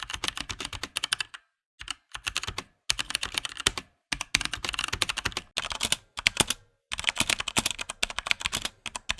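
Fast typing on a Mantistek GK2 mechanical RGB keyboard fitted with Gateron switches: dense, deep, fairly quiet key clacks in bursts separated by short pauses, close up.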